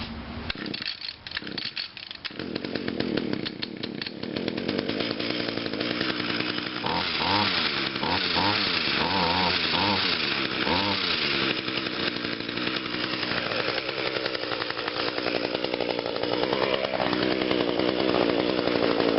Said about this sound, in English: we'll see how the hedge trimmer will start